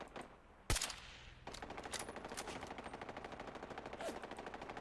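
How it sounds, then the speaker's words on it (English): Rapid automatic gunfire from an aggressive turret in the Fallout 4 video game, a loud initial blast followed by a steady, fast rattling burst lasting several seconds. "That was one aggressive turret."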